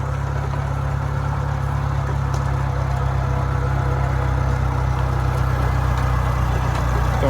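A Farmall Cub tractor driving in top gear, its engine a steady low chugging drone with a constant throb, close and even throughout, no talking heard.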